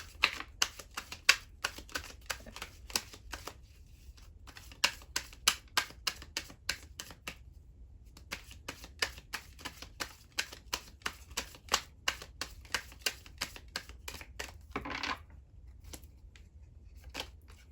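Sharp crisp clicks and riffling snaps come in bursts with short pauses, as tarot cards are shuffled and handled close by.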